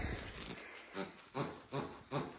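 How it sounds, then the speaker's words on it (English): A plush Christmas sheep dog toy lets out four short, low grunts at a steady pace, close and fairly quiet against a soft room background. "a big grunting Christmas sheep"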